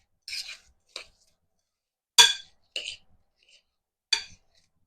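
Cheerios stirred in a bowl, five short separate scraping rustles with silence between, close and fairly crisp.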